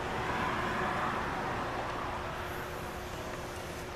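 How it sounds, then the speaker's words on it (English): Continuous broadband road noise, a steady roar of traffic passing nearby that eases slightly toward the end, with no talking. "Of course, you can't hear for all the traffic going by."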